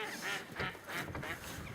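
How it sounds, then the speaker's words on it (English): Ducks and geese call on the river Avon, several soft quacks and honks repeating at a distance in quiet open air. "listen to the birds"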